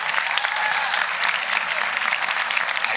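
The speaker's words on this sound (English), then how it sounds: "Give them a round of applause," Dense, steady applause from a large audience at an awards dinner honoring a school tennis team, continuous and fairly loud throughout with no speech over it.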